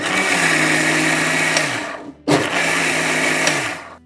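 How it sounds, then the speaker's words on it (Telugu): A kitchen mixer grinder whirs loudly while grinding soaked lentils in their soaking water for dosa batter, running in two bursts of steady motor whine separated by a brief pause. "ఎప్పుడైనా సరే పప్పులు నానబెట్టిన నీళ్ళనే మిక్సీలో వేసి మిక్సీ పట్టండి."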